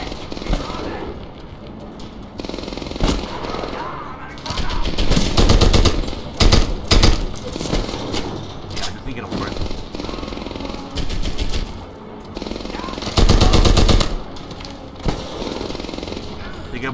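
MG-42 machine gun fire in Medal of Honor Airborne, loud rapid bursts repeating over about seventeen seconds amid battle noise, with occasional voices.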